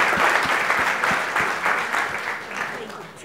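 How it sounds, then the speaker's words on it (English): A church congregation at a Sunday service applauds steadily with clear individual claps, and voices call out over the clapping. "Let's give William a big round of applause."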